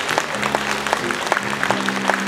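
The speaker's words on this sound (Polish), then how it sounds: "Brawa, brawa, brawa." Theatre audience applause during a stage show, a moderate wash of clapping with scattered distinct hand claps, mixed with a sustained musical tone underneath and continuing steadily.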